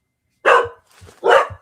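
A dog barks twice, close and loud, with a softer whine or yip between the barks, in a quiet indoor room.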